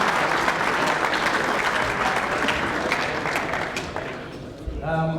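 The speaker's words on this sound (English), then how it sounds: "a massive round of applause for our winner in 2014" Dense, loud applause from the crowd at a football league medal presentation night fills the room and fades slightly toward the end, where a voice begins speaking.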